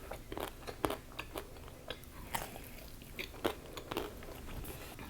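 Gyoza is bitten and chewed close to a handheld mic, soft crunchy bites and wet chewing arriving in an irregular rhythm, quiet and without talk.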